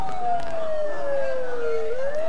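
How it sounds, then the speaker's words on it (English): A single siren wail from the video game Persona 4, a steady tone that slowly slides downward and then swings back up, fairly loud and up close with no talking over it. "Don't those sirens sound really close?"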